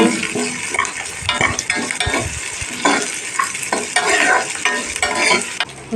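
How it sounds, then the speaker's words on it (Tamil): Garlic cloves sautéing in a pan for a mint and coriander chutney, a loud, close, continuous sizzle with frequent scraping and clinking as a spoon stirs the pan. "போட்டு இதை வதக்கி விட்டுக்கோங்க."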